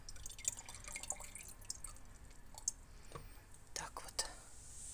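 Water drains and drips from an orchid pot after watering, scattered soft dripping and trickling splashes close by, faint and intermittent.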